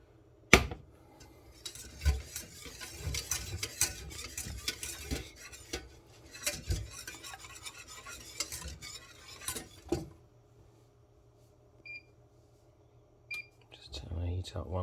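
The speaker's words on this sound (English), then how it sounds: "Or a cold roux to a hot liquid. Whisk that through." Cold roux whisked into hot milk in a pan for a cheese sauce, with rapid clicking whisk strokes against the pan in bursts, a faint simmer and a voice talking in between.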